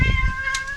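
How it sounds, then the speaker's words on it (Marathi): A cat meows briefly outdoors by a new house, a single faint call with a steady pitch against low background rumble and noise. "काव्याची मांजर बघ खाली."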